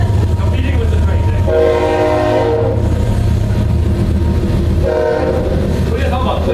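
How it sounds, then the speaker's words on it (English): A train passes close by, its loud continuous rumble and clatter running throughout while the horn sounds in two sustained blasts. "competing with the train."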